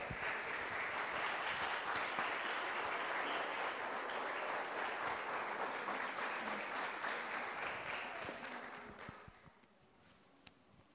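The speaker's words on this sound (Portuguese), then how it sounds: "saudando ao Senhor com palmas" Church congregation claps together in a sustained, dense round of applause, loud and steady for several seconds before tapering off and dying away near the end.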